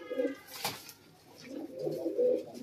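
A pair of American fantail pigeons coos in a cage, soft low repeated cooing phrases heard close, with a brief sharp noise in between and no clear talking.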